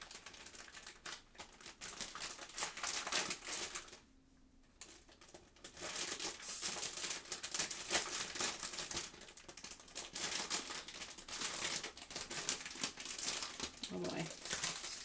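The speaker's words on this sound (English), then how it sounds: "I'm gonna unwrap and take out what is in the sub box." A stationery subscription box is unwrapped, with dense crackling and crinkling of packaging paper and plastic close to the microphone, pausing briefly before resuming; a faint voice speaks near the end.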